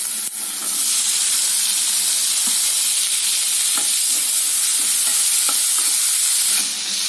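Tomatoes with onion sauté in a pan for keerai thandu poriyal, a loud continuous hissing sizzle with scattered spatula taps, close and steady throughout with no talking.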